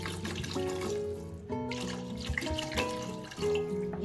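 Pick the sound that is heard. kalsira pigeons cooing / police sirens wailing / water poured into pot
water poured into pot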